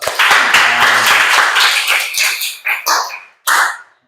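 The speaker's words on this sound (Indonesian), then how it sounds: "Beri aplaus dulu dong" Classroom applause in an automotive engineering lesson, a burst of dense clapping from the students that swells, thins out into scattered claps, then returns in a short final flurry.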